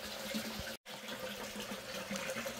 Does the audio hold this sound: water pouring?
yes